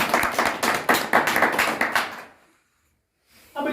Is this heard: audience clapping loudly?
yes